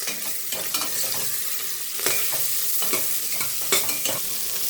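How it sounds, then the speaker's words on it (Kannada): Chopped onion fries in hot oil for a sambar of beans, capsicum and potato, a bright continuous sizzle broken by repeated scraping stirs of a spoon in the pan, close and fairly loud with no talking. "ಕಟ್ ಮಾಡ್ಕೊಂಡಿರೋ ಒಂದು ಆನಿಯನ್ನು ಮೊದಲು ಇದೊಂದು ಸ್ವಲ್ಪ ಫ್ರೈ ಮಾಡ್ಕೊಂಬಿಡೋಣ"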